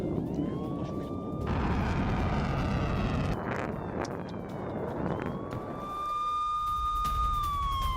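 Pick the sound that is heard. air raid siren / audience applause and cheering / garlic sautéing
air raid siren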